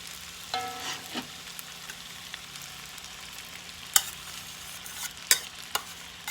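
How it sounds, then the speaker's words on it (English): Cooked rice being stirred into a pan of seafood, onions and peppers, with a low steady hiss under a few scraping clicks and utensil knocks spaced irregularly, close and quiet. "I'm just going to stir this into this"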